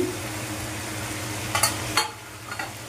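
Green chilies, slit open, hit a pan of frying lote fish with onion and tomato, giving a steady close sizzle with a low bubbling undertone and a few sharp spitting crackles toward the end, no voices.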